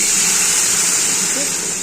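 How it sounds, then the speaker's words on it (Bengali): Hot water poured into a pan of vegetable stalks frying with salt and turmeric gives a loud, steady, close hissing sizzle that runs evenly for about two seconds. "জল দিলাম। আমি গরম জলই দিয়েছি, আমি গরম জল দিতে পছন্দ করি।"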